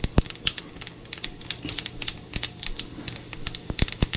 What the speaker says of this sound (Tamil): இப்போ எண்ணெய் விட்டு கடுகு போட்டாச்சு